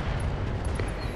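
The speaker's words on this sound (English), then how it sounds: "Beautiful explosion." A loud, rumbling explosion from the BattleTech mod Roguetech booms in a mech battle, heavy low-end roar with faint higher crackles over the short span.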